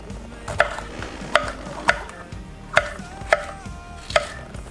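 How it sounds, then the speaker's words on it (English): Sweet mini peppers being chopped with a knife, six crisp, evenly spaced strikes on a board at a steady rhythm, close and distinct. "sweet mini peppers. Chop, chop, chop, chop, chop."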